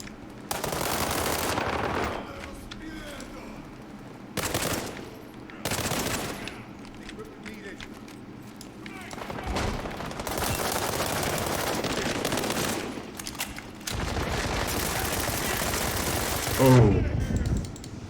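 Rapid gunfire bursts from the World War 3 video game, with machine-gun rattles and volleys starting and stopping in clusters between short pauses, and one sharp burst near the end.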